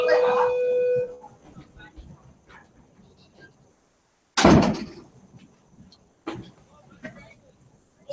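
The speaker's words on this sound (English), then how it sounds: "I'm just going to close the door." A school classroom door is pulled shut with one loud, sharp thud partway through, followed by a softer knock; quiet room tone and faint voices surround it.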